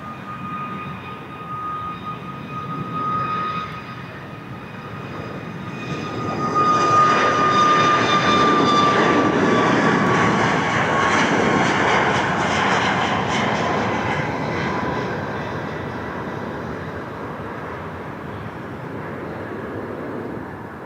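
An airliner takes off at Portland PDX airport, its jet engine roar swelling from a steady rumble to a loud broad wash midway, then slowly fading as it climbs away.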